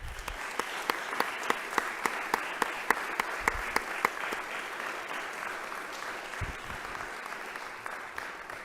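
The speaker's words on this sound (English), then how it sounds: "please join me in a round of applause for all of them" At an alumni awards ceremony, the audience gives sustained applause: a dense wash of clapping, with a few louder claps standing out on a steady beat at first, continuing evenly to the end.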